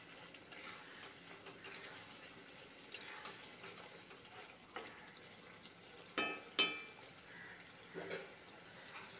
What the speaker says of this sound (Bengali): পটল দেওয়ার পর আবারও ভালো করে কষিয়ে নেব